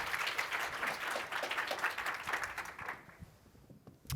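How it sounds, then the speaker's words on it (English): Audience applause for a panel of creative professionals, a moderate, steady patter that thins out toward the end, followed by a single sharp sound. "Let's give them a round of applause."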